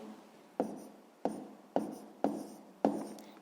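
Pen or pencil writing by hand on paper during a sixth-grade maths exercise, five distinct scratchy strokes each starting sharply and trailing off, close and fairly quiet with no voices.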